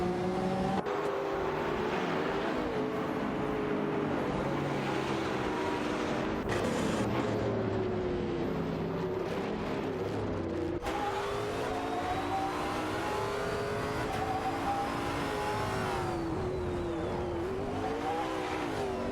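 Bugatti Veyrons and other supercars race closely in an AI racing video game, with a steady, continuous engine roar that shifts pitch as the cars accelerate and change gears, and no voices.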